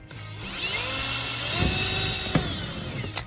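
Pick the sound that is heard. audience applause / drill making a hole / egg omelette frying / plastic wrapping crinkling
drill making a hole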